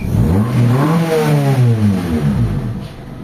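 A Honda Civic engine revs up and back down in one smooth, close rise and fall of pitch, with no talking.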